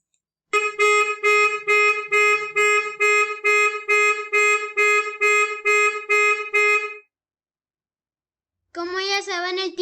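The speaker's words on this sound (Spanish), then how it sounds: "la alarma de mi camioneta." A pickup truck's car alarm sounds loud and close, a steady chain of about a dozen identical rapid electronic beeps, then a pause before a wavering siren tone begins.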